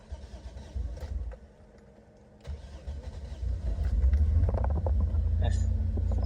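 Van engine cranked with the key and catching, a low rumble that stutters, drops briefly, then swells into a steady idle, close by with someone speaking Thai over it.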